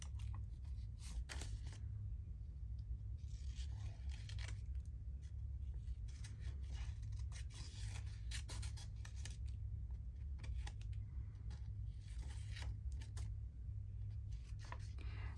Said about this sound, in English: Just wanting to get my flower cut out quickly.